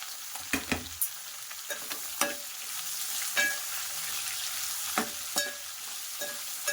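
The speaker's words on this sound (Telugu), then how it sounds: "ఉల్లిపాయ ఎక్కువ ఫ్రై అవసరం లేదండి, కొద్దిగా ఫ్రై అవుతే చాలు ఉల్లిపాయ" Onions fry quietly in a pan under a soft sizzle, broken by a run of sharp spatula scrapes and taps at an uneven pace, close up, no talk.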